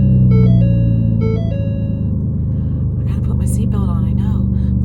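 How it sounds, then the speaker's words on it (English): A loud, steady car engine rumble runs throughout, with a few brief tonal beeps early on and some faint higher noises near the end. "Sounds like an old beat up pickup truck"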